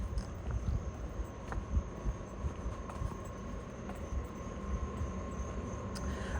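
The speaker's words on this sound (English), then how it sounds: "About to get on a train." Train noise rumbles at a Staten Island station, a steady low rolling drone with faint clicks and a thin high whine, continuous and moderately loud with no talk.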